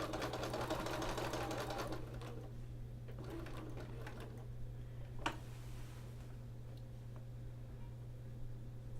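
A sewing machine quilting fabric whirs rapidly for a couple of seconds, then settles into a quieter running hum with a low steady drone underneath.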